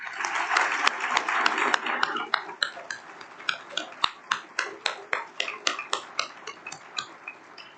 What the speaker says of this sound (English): Let's give these schools a round of applause.